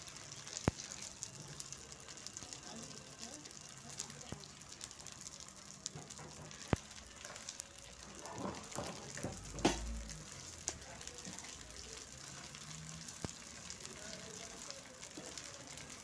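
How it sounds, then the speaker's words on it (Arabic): Vermicelli frying in oil in a pot, a steady soft sizzle and crackle running throughout with occasional stirring clatter, close and fairly quiet. "نتنينا نحمر في الشعريه لما يبقى لونها جولد"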